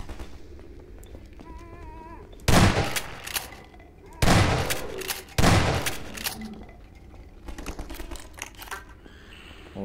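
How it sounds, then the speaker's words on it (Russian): Several loud bursts of rapid gunfire erupt in sequence in the video game Half-Life 2: Episode One, separated by quieter stretches with a voice speaking and faint clicking. "Ну, выстрелит Алекс"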